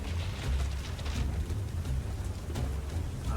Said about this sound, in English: As the lightning crackles above and the rain falls.